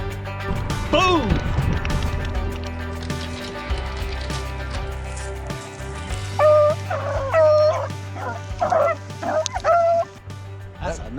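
A dog beside a lake on a fall crappie fishing trip whines and yips in a string of high, wavering cries, loud and close, over a low steady hum and a voice.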